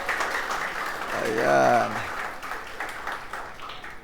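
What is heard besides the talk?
congregation applauding in church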